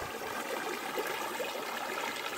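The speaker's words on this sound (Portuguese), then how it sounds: "vamos ali mostrar para vocês uma cachoeira que tem aqui no mato" A waterfall in the woods of Colônia do Pinhum in Rio Grande do Norte, Brazil, gives a steady, even rush of falling water that fills the whole moment without a break.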